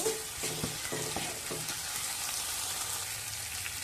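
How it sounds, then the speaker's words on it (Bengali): Bay leaves and spices frying in oil while being stirred, a close, steady crackling sizzle with a few soft knocks early on; no talking. "এবার এর মধ্যে দেব তেল পাতা তেল পাতা দিয়ে মশলার সঙ্গে ভালো করে কষে নেব"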